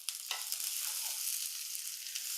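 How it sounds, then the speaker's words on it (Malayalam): Shallots, green chilies and curry leaves with crushed ginger and garlic sautéing in a pan, a steady close sizzle with a couple of soft stirring knocks near the start. "ഇതൊന്ന് വഴറ്റാവേ."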